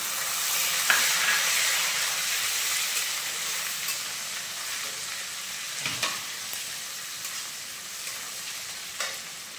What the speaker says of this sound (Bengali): এবার দিয়ে দিলাম টমেটো কুচি,